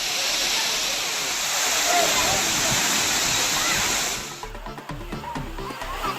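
At Meghamalai falls in the Western Ghats, water pours from a 40-foot rock with a loud, steady roar. Partway through, the rush drops and grows patchier, with splashing and faint voices of bathers nearby.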